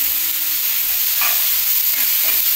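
Potatoes and spices stir-fry in a pan with a steady, close sizzle, broken by a few soft scrapes and stirring clatters from a spoon.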